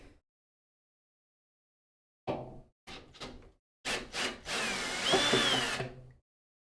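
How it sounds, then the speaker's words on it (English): Several short whirring bursts from a power drill driving tiny screws into server hardware, starting and stopping, then a longer run that rises in pitch, close by. "These screws are so tiny and this drill is way too excessive for that."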